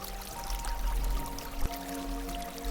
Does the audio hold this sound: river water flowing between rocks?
yes